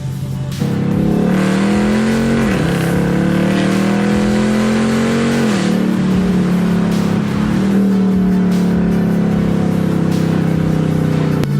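A 2018 Dodge Challenger accelerates hard on the road. Its loud, steady engine roar climbs in pitch, briefly dips at each gear shift, and climbs again, with no talking.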